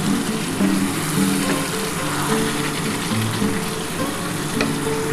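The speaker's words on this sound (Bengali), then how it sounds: "এই যে দেখো গরম জলটা দিয়ে দিচ্ছি" Hot water poured into sautéed mutton for a Dak Bungalow curry, making a loud, dense, continuous sizzle and bubbling close up throughout, with no talk.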